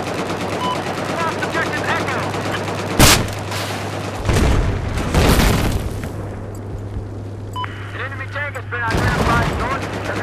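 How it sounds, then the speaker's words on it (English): Tank cannon fire in Battlefield 4: a sharp loud blast near three seconds, followed by heavy booming impacts and rumbling bursts around four to six seconds and again near nine, over a steady low engine hum. "Frickin' tank shot me."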